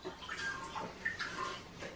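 Dirty water sloshes and laps in a bathtub, with soft, fairly faint splashes and drips throughout.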